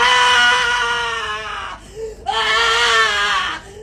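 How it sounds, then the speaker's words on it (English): A woman screams at the top of her lungs, two long, shrill, strained screams separated by a brief gasp, loud and close. "a woman suddenly began screaming at the top of her lungs, clutching and squeezing the scarf around her neck."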